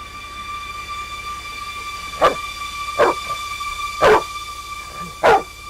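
A dog barks four times, single sharp barks spaced about a second apart, over a steady electrical hum.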